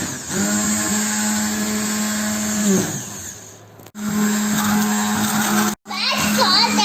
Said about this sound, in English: use a blender and blend it.